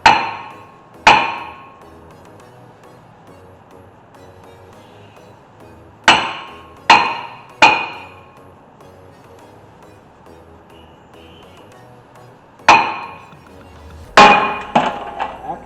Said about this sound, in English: We'll get a few good hits with the hammer.